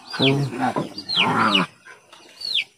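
Chickens clucking and squawking nearby in Lagonoy, several rising calls in quick succession with a person talking underneath.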